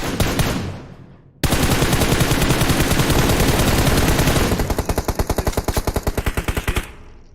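Rapid automatic gunfire in a shooting video game, a loud sustained burst that breaks into distinct rhythmic shots toward the end before cutting off, with a brief quieter shot passage at the start.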